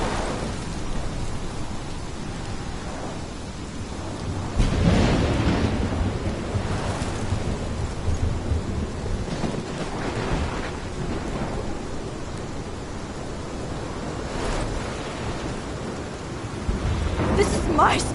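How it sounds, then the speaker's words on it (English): A thunderstorm rages in Life is Strange, with steady heavy rain and repeated deep thunder rumbles swelling loud and close over roughly eighteen seconds. "This is my storm."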